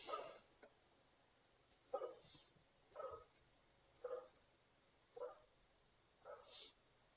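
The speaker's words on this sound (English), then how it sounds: "I hope you enjoy the sound of my dog barking." A dog barks six times in a room, each bark a separate short burst spaced about a second apart, moderately loud above a faint steady background hum with no talking.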